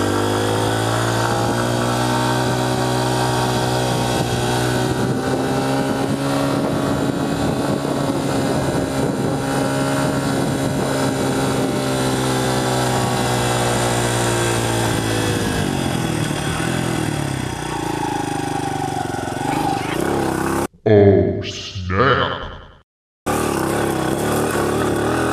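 A Honda CRF100F dirt bike holding a steady, buzzing engine drone close by for most of the ride, the pitch rising and falling slightly, before it cuts out abruptly near the end with a brief bump of noise and then silence.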